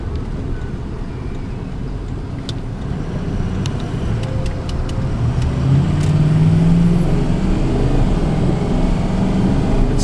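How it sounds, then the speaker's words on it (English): A 2004 Ford F-250 diesel pickup engine with aftermarket cold air intake and exhaust idles with a steady, deep rumble that grows slightly louder and fuller partway through, running on its own without voices. "This is a clean running diesel."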